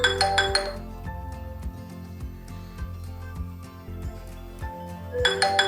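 Phone alert ringtone set off by a boAt smartwatch find-my-phone function, bright repeating chime notes in bursts at the start and end, with a softer melodic pattern in between, close and clear with no talk.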